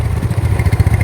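A Yamaha Mio S scooter engine idling up close, a loud, uneven low putter with a rough, slightly sputtering rhythm.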